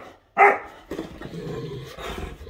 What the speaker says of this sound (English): Oh, we got a bark.